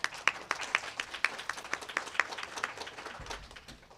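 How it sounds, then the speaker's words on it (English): Audience applause for speakers at a public policy panel on housing anti-displacement, with a burst of claps early on that thins into scattered, fading claps, moderately near and without talk. "Another round of applause for Debbie and Roberto."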